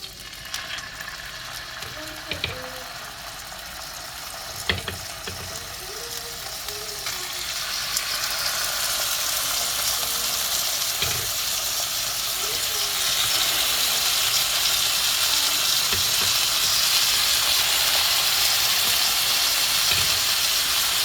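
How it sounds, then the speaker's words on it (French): Lamb chops browning in a frying pan give a steady hissing sizzle that swells louder after the first few seconds, with a few knocks and clinks of the pan, no voices. "Et donc, on va laisser dorer nos côtes."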